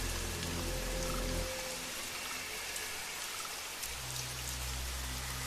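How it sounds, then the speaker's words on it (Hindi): Steady rain patters and hisses on surfaces along a quiet village path, a soft even wash with a faint low hum near the start and end. "तेज बारिश शुरू हो गई।"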